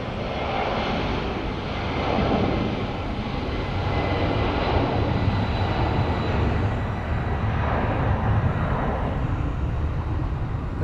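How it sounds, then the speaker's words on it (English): A FedEx plane flies at Phoenix Sky Harbor airport, its engine roar a broad, steady, loud rumble that holds throughout without a break. "Then we're going to get our FedEx flight that's going to be going to Oakland"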